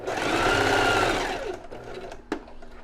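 Sewing machine stitching along a fabric edge, a fast close whirring run that slows and stops after about a second and a half, followed by faint handling noises and a single sharp click.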